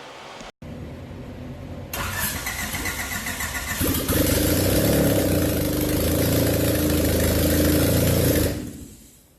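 Honda GSR engine swapped into an Isuzu Trooper cranks and fires up, starting with a few quiet clicks, then a loud rising whir, then a strong, steady running roar that cuts off abruptly near the end.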